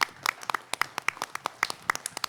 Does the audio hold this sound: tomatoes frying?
no